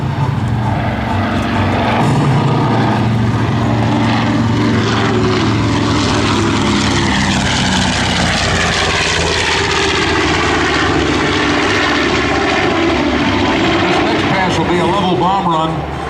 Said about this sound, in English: Take a look and listen to those radio engines.